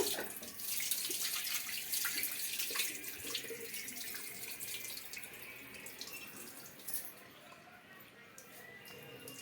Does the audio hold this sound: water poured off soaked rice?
yes